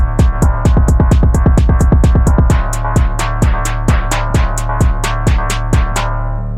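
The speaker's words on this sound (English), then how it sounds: "So now it'll sound like this." A basic Phonk beat programmed in FL Studio 21 pounds along with a fast, even stream of heavy booming kicks over deep sustained bass, then settles into a slower, spaced kick pattern, loud and dense throughout.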